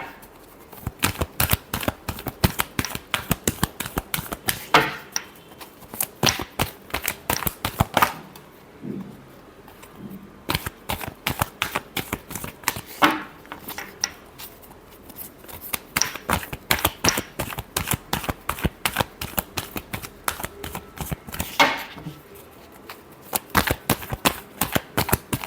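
Tarot cards being shuffled: a long run of rapid, crisp riffling flutters in quick bursts, each broken by short pauses, loud and close, with no voices.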